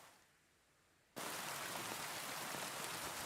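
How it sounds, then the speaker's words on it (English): Heavy rain in the video game Kingdom Come: Deliverance II begins abruptly after about a second of near quiet. It then falls as a dense, even hiss that stays constant to the end, with no talking. "And it's raining here too."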